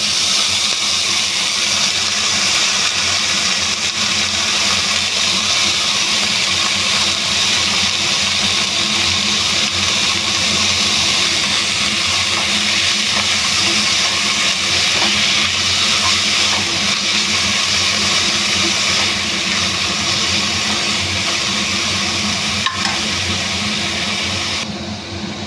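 Pumpkin stalks and greens going into a hot pan of spices for a Bengali kumro datar chachchari, a steady, even sizzling hiss that holds for the whole stretch before easing off at the end.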